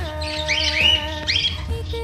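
A pet bird offered for sale, seven months old, gives a few shrill, rising squawks at close range, two main calls about half a second apart over faint background hum.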